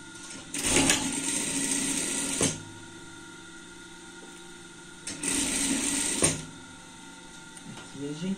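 A sewing machine topstitching a double-sided pet outfit of fabric with white top thread and red bobbin thread, running in two bursts of about two seconds each with quiet pauses between.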